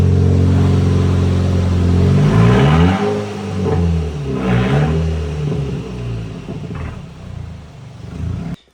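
An Audi TT engine runs while its wheels spin to warm the Haldex system, a loud, close engine drone that rises and falls through a couple of revving swells before dropping away at the end.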